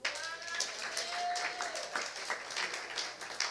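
Applause from a church congregation during a Sunday service, a steady wash of clapping at moderate level with a few whistles and voices mixed in.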